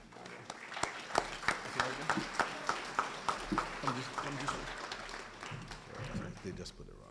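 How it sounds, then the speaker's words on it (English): A round of applause at a Prince Hall Grand Lodge scholarship ceremony, sparse and faint with distinct individual claps in an uneven rhythm, heard under ongoing talk. "So we want to give him a round of applause for that."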